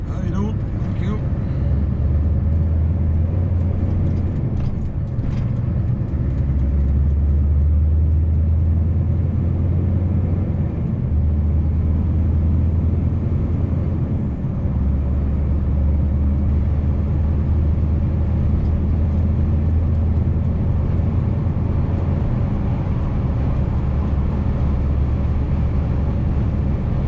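A Scania truck cruises along an Irish motorway, its engine a deep steady rumble from the cab with low drones rising and falling, while someone talks over it for much of the time.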